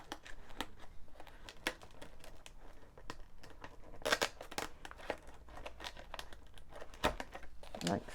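Paper pieces of a handmade gift box are gently peeled apart, giving faint, close crinkling and papery rustles with a few sharper crackles scattered throughout.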